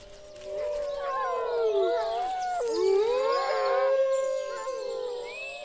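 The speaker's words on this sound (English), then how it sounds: "Wolves still roam throughout the Dumitor Mountains, and their howl is a primal call of the wild." Several wolves howl together in the Durmitor Mountains of the Balkans in long, wavering, overlapping calls that rise and fall, a sustained chorus with no other sounds.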